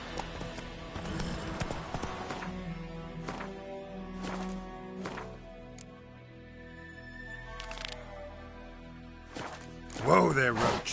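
Geralt's horse Roach gallops in a video game, the hoofbeats coming as scattered, uneven clops over soft game music, with a louder burst of sound at the end.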